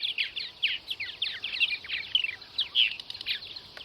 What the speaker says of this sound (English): you can still hear birds up above me, you can hear them chirping